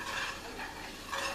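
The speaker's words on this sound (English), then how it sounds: "the flour and oil is starting to bubble up" Flour and oil bubbling in a pan while making gravy, giving a soft, low, steady sizzle with faint stirring scrapes, quiet and close.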